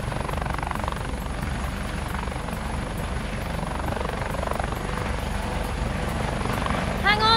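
Helicopter rotor and engine drone, the Wallaby One rescue helicopter from the Fireman Sam children's show, holding a steady loud thrum throughout with no break.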